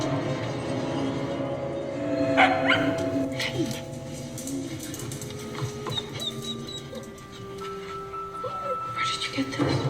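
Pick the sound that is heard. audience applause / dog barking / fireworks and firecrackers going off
dog barking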